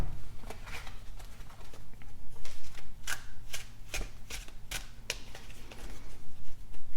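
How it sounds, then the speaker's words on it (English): Tarot cards are shuffled up close in quick, repeated riffles and flicks, a papery rhythmic patter running steadily throughout with no one talking. "let's take out your tarot cards"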